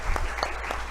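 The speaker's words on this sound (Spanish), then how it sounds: "le vamos a dar un aplauso por su participación" A few claps of applause honoring a doctor at the end of a class session, faint and brief, with only a handful of separate hand claps over a low background hum.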